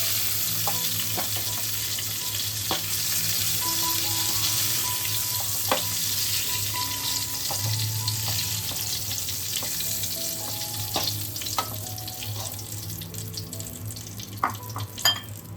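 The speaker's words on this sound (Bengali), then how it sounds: "পটলটা যেন খুব ভালোভাবে ভাজা হয়ে যায়।" Pieces of pointed gourd (parwal) sizzle and crackle steadily in hot oil, with occasional clinks and scrapes of a utensil stirring the pan.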